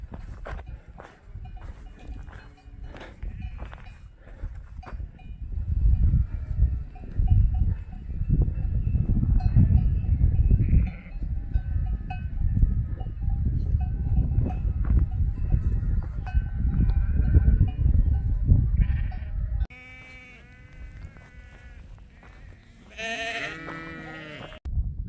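A flock of sheep bleats repeatedly along a mountain trail as a herder rides past on horseback with two dogs, the rustle of hooves and footsteps rising in the middle before clear, close bleats stand out near the end.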